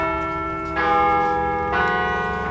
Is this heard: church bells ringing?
yes